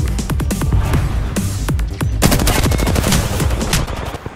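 Rapid automatic gunfire from an Apex Legends gunfight, dense bursts of close, loud shots firing continuously with overlapping cracks and reports throughout.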